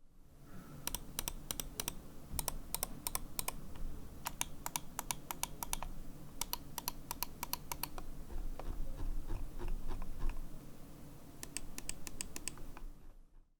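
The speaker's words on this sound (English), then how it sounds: "The side buttons are nice and clicky as well" Clicky buttons on a MelGeek Horus mouse sound in quick bursts of sharp, close taps, several rapid clicks per group with short pauses between, over a faint background.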